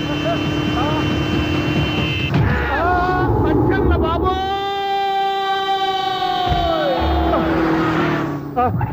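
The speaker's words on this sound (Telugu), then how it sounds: "ఆరినెట్టండి బాబు, సైరన్నే కొట్టాడు" A loud siren wails with a sweeping, then sustained tone over heavy vehicle noise, close by and dominating the scene.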